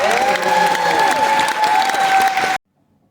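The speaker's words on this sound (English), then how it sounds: "give them all a great round of applause" An audience aboard the cruise ship Liberty of the Seas applauds at a love-and-marriage game show, loud clapping and cheering under a sustained musical tone before cutting off abruptly.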